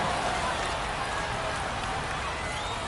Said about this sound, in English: We're coming right up against it with the way this rain is coming down